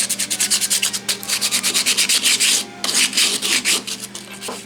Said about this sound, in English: I still need to do just a touch of hand sanding.